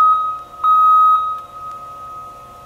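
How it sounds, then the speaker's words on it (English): A Cat asphalt paver's backup alarm sounds loud, sustained beeps, two long tones with a short gap, then a fainter lingering tone. "Once you can hear your backup alarm"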